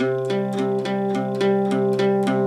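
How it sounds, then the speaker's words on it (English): An electric guitar strummed in a quick steady rhythm, chords ringing open and sustained between strokes, with no voices. "Without palm muting, everything sounds like this."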